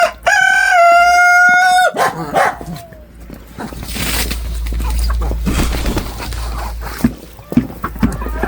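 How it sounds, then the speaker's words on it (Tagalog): Backyard chickens in winter, with a rooster's loud crow at the start followed by clucking, scratching and a dog barking nearby in the background, plus a few faint voices. "Mga manok ni Mama."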